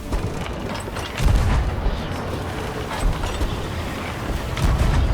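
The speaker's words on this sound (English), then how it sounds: "Ready the cannons! Get on the cannon" Heavy booming ship cannon blasts in the video game Sea of Thieves roll out in a dense, continuous barrage, with deep rumbling impacts swelling louder near the start and the end.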